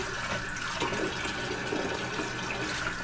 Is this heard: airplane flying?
no